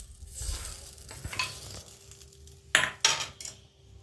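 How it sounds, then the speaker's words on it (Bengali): Semolina pancake batter is stirred in a bowl, with soft scraping swirls punctuated by a couple of sharp utensil clinks against the side. "এটা এবার আমি এটার মধ্যে মিলিয়ে দিচ্ছি, ব্যাটারটার মধ্যে।"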